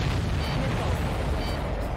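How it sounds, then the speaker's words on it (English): A missile explosion in the video game Ace Combat 7 makes a dense, loud, continuous low rumbling roar that fills the whole span with steady booming energy. "Did you see that explosion?"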